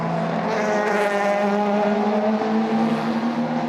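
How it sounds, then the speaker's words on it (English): LMP2 endurance race cars at the 2020 World Endurance Championship, engines wailing loudly and steadily as the cars run close together, with the pitch rising and shifting as they pass. "Geert van der Garde in the yellow and black Racing Team Netherlands car has caught the leader, Felipe Albuquerque for United Autosports."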